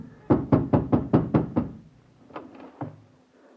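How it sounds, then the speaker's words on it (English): Hammering knocks on a landlady's door in a 1953 radio drama: a rapid run of seven loud, close thuds, a pause, then two more scattered knocks. "I hammered on my landlady's door and..."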